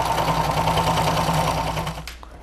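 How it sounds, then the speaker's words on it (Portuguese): A sewing machine stitches a patchwork makeup bag with plastic lining, a rapid, even mechanical whir up close that runs continuously for about two seconds before stopping abruptly. "Vou fazer a famosa costurinha de segurança"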